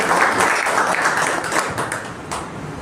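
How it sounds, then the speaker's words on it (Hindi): An audience applauds at an Urdu poetry gathering, a steady wash of clapping that is loud at first and gradually thins out. "एक मरतबा तालियां बजा के"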